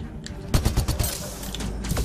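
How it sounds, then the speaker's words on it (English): Gunfire in the video game Mass Effect: Andromeda: a rapid cluster of punchy shots in quick succession, then scattered further bursts over an ongoing background of game noise. "The hell is he shooting? Get out of my line of fire, damn it."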